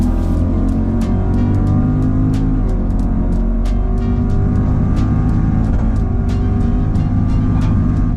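A 650 WHP supercharged Lexus IS F with Penske coilovers cruises on the highway, its engine and road noise forming a loud, steady drone heard from inside the cabin, with small bumps and clicks over the constant roar.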